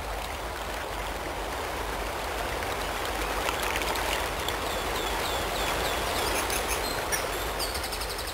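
Steady rushing of an upland stream flowing through open hill country, a constant broadband wash throughout, with bird chirps and calls rising over it toward the end.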